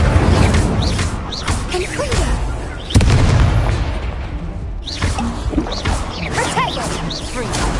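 Incendio fire spells are cast repeatedly in Hogwarts Legacy, each a booming whoosh with a fiery burst, loud and overlapping amid combat clatter, with voices speaking over the action.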